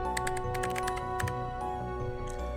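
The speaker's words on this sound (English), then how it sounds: "she heard the sound of something typing in a neighboring office" Keys tapped in quick uneven bursts on a computer keyboard in a neighboring office, fairly close and steady with short pauses between runs, set over a low droning background hum in a quiet, supposedly deserted building.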